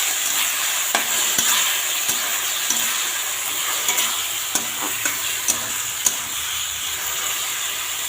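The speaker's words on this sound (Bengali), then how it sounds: "ভালো করে নাড়িয়ে নেব।" Washed rice and dal go into a pot of fried onions for khichuri, with a loud continuous hiss and sizzle and light scattered clicks of a spoon stirring, no speech.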